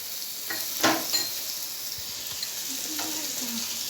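Spices with chili powder and green chili fry in a pan with a steady sizzle, broken by a few clanks of a spoon stirring, and no one speaks.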